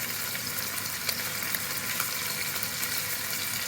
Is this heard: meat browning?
yes